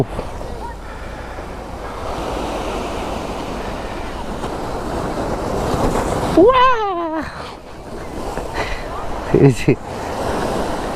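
Sea waves roll onto the beach at Patenga, a broad continuous wash of surf with wind buffeting the microphone and a brief voice heard over it.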